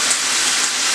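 Pastrami for a grilled Reuben sandwich sizzles on the grill, a bright, steady hiss, loud and close, alone over a single short moment.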